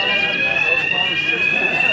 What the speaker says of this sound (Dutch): het brandalarm is net afgegaan